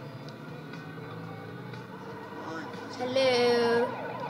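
Police car sirens in the video game Turbo Dismount, a wailing electronic tone rising near the end over game noise, with a person talking briefly over it.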